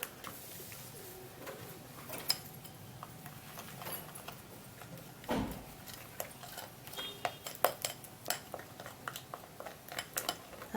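Rice powder mixture being stirred in a bowl, with faint scraping and irregular clinks of a utensil against the dish, quiet and close.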